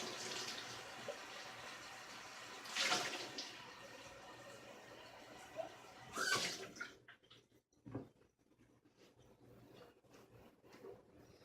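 Running tap water rinses out a mason jar, a rushing, gurgling flow with a couple of louder surges before it tapers off into quieter trickles and silence.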